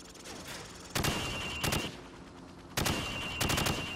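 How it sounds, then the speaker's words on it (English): Rifle fire at range targets in Call of Duty 4: Modern Warfare, loud sharp shots in two bursts, a single crack followed by a quick double or triple volley, repeated, over a steady background hum. "Now, shoot at the targets while firing from the hip."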